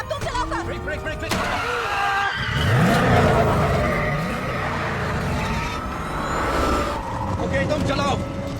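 A car brakes hard and skids during a police chase, with loud engine roar and tyre screech sustained across the whole stretch and voices occasionally over it.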